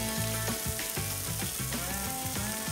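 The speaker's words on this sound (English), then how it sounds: "The steaks certainly look cooked. They're crusty, sizzling, browned on the outside" Wood-smoked beef ribeye steaks sizzle on a grill, a dense close crackle with rhythmic tonal pulses riding over it, loud and continuous throughout.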